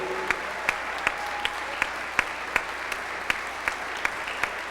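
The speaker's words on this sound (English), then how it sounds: "Yes, students, you should be clapping for them," Audience applause for boosters and parents at a high school marching band concert, a steady wash of clapping from a crowd with sharper individual claps standing out at regular intervals.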